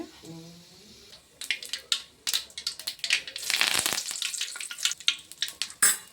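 Mustard seeds hit hot oil in a pan for a village-style okra gojju, first a quiet lull, then a burst of dense crackling and spitting sizzle with sharp pops that carries on loudly to the end.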